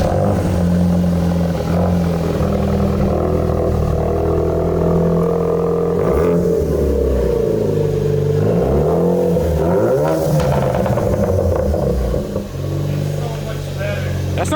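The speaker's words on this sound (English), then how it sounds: "So first start with Ford Performance exhaust in normal mode." A Ford Focus RS fitted with a Ford Performance exhaust in normal mode revs loudly and close, rising and falling through several throttle blips with a steady idle rumble between them, while people talk in the background.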